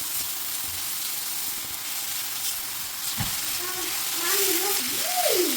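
Garlic frying in a pan for vegetable spring rolls, a steady soft sizzle and hiss running throughout at low level, with a voice briefly speaking near the end.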